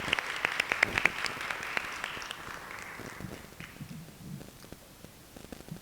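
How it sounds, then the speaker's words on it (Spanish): Applause in a legislative chamber for a guest speaker at a presentation on femicide in Mexico: brisk clapping that fades from a lively burst to a softer, scattered patter. "Un aplauso, por favor."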